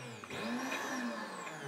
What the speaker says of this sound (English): chop vegetables with your OmniBlend using the dry chop technique